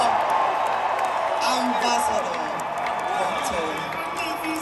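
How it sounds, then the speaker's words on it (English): A large audience at a motivational event cheers and claps steadily as a speaker is welcomed, a dense, continuous roar of crowd noise with whoops and shouting voices mixed in throughout. "Please keep clapping."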